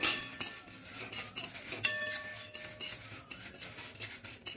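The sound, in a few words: stirring whole spices frying in pan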